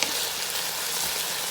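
Red peppers sizzle steadily in a hot pan while cooking for a chicken curry with vegetables, a bright, even hiss of frying with no talk over it.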